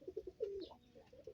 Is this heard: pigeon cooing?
yes